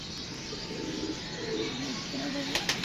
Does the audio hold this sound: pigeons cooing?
yes